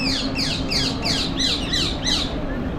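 Birds by a lake at Udaipur, heard from a boat ride, give about eight evenly spaced, harsh squawking calls over a steady background hum, moderately close.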